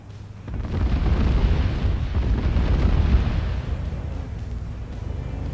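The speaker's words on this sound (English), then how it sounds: "I call in a cluster bomb strike to soften them up before I go in" Cluster bomb strike in Arma 3 (Antistasi Ultimate campaign): a continuous loud, rumbling roar of overlapping explosions that swells after a half-second lull and holds heavy and booming to the end.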